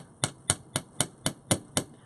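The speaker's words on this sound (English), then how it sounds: "I'm just going to start to hammer. And I'm hammering in a controlled manner." Seven crisp, ringing hammer blows land on a metal charm on a steel bench block. They come in a steady, even rhythm about a quarter second apart, close up and without speech.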